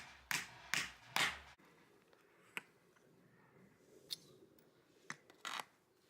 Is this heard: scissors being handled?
yes